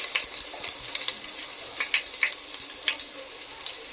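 Onions frying in oil in a pot for mutton biryani with whole garam masala, giving a steady, fairly loud crackling sizzle with dense bright spatter throughout and no talk.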